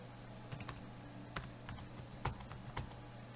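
Password keystrokes tapped on a computer keyboard, a few sparse, quiet clicks with irregular gaps over a steady background hum.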